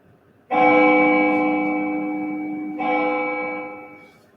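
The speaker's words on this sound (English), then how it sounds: "The bell summons me." Two resonant bell strikes during a stage performance of Macbeth, the first ringing out for about two seconds, the second overlapping as it fades, rich and sustained with no voices.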